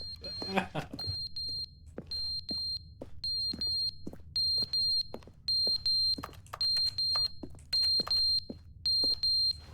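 A fire alarm with a dying battery in The Stanley Parable: Ultra Deluxe repeats short, sharp high beeps at a steady rhythm, mixed with clicks and low background sound, with someone apparently talking over it.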